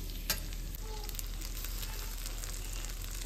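Rice being stirred together with gojju in an oiled pan, a steady soft sizzle of frying with quiet scraping and stirring throughout, close and continuous with no talk.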